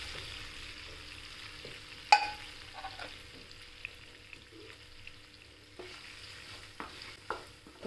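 Onion, green chilli and curry leaves sauté in oil, a quiet low sizzle broken by scattered clinks and scrapes of a spoon against the pan, with one sharper knock.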